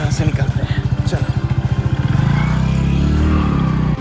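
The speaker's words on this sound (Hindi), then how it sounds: "हाँ, बाइक आ गई, अब बाइक पे बैठते हैं।" A motorcycle engine pulses in a fast, even idle beat, then revs into a steadier, louder drone, heard close on a road trip to the waterfalls of Jashpur, India.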